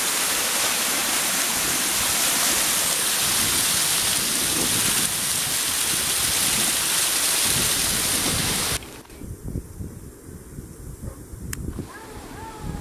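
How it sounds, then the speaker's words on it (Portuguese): A waterfall on a clear stream near the Ribeirão Vermelho spring pours in a dense, steady rush, then the sound drops sharply for the final few seconds, leaving a thinner trickle and small splashes. "Olhem só que cachoeira linda."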